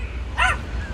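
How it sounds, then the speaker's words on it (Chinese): A lively grey month-old puppy in a pet shop gives one short, sharp, high-pitched yap over a low background hum. "你看这个灰色的小狗多调皮"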